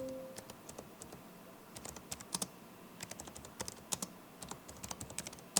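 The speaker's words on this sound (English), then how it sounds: "every other key I found is clicky" Clicky keys on an Alienware m18 laptop with an AMD 7900M are tapped in an uneven, two-fingered rhythm, each sharp click distinct and close over a quiet room.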